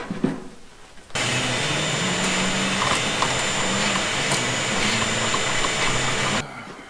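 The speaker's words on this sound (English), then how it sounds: "what I just did is vacuumed out the engine bay over here with the shop vac" A shop vac roars steadily while cleaning dirt and leaves out of the engine bay of a 6.0 Powerstroke F250. It switches on sharply after a quiet second, holds a loud constant whine for about five seconds, then shuts off.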